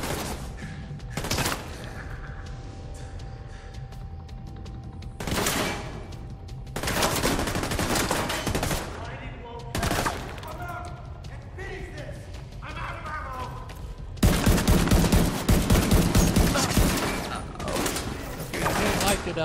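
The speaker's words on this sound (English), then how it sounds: "I was shooting the wall there" Bursts of gunfire hit a wall in The Division 2, with several loud automatic volleys separated by quieter gaps and a sustained, heavier barrage near the end.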